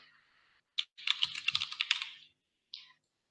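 Quick typing on a computer keyboard during a programming session: a couple of isolated taps, then a rapid burst of close, crisp keystrokes, then one last tap, with no talking.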